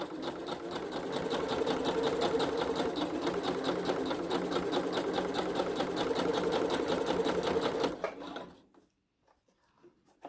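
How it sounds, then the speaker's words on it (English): A sewing machine runs continuously while back stitching around a trouser hem, a fast, even mechanical rattle up close for about eight seconds before it stops and goes nearly silent. "Do a back stitching and all the way around."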